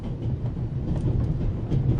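A train rolling along rails in the video game The Raven Remastered, a steady low rumble with faint rhythmic clatter, continuous and fairly close.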